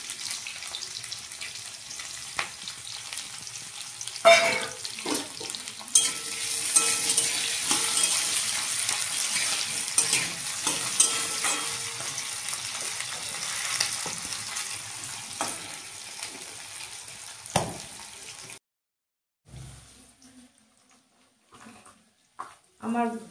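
Thin strips of potato fry in hot oil in a pan, a steady loud sizzle with scattered stirring clatters, ending abruptly into near silence broken by a few faint knocks.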